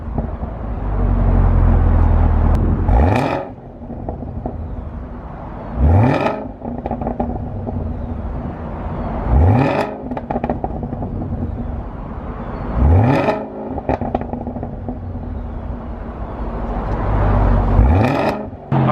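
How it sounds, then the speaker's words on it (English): Stock exhaust of a 2018 Chevrolet Camaro ZL1 revving, five sharp throttle blips rising in pitch at regular intervals over a steady loud idle rumble, close to the microphone. "That's the 2018 ZL1 exhaust. That's stock."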